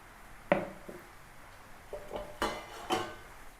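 Potato and onion pakora batter being mixed in a bowl, with a handful of clinks and knocks from a utensil against the bowl, close and fairly soft, spaced irregularly.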